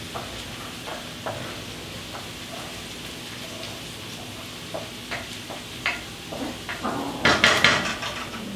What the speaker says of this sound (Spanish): Voy a sofreír. Mi cocina va a empezar a oler sabroso. Ajo acitronado con cebolla.